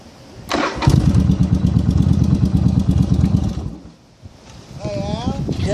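Yamaha Virago 1100 motorcycle starting up and running with a loud throbbing engine rumble, then dropping briefly before revving again. Wind buffets the microphone and a voice is heard near the end.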